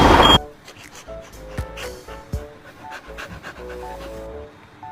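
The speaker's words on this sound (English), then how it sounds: "There's a fucking dog." A dog pants in quick, close breaths, rising and falling over several seconds, with a sharp burst of noise at the start and scattered faint background sounds.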